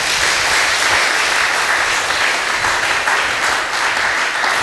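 Loud, steady clapping from an audience at a religious gathering, continuous dense applause throughout with no pauses.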